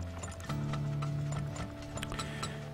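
Game-style horse hooves clip-clop in a steady rhythm through Turmoil, an oil-drilling game, with a sustained musical drone and ticking tones layered over it. The sound is moderately loud and close, with no talk.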